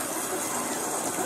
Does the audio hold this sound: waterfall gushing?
yes